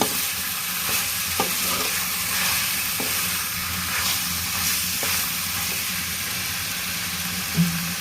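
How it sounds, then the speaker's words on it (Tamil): Chicken chukka with spice powders being stirred in a pan, a steady close sizzle and hiss broken by occasional sharp scrapes and clinks of the spoon, no talking. "எல்லா தூளும் போட்டு நல்லா கிளறி விட்டுக்கலாம்."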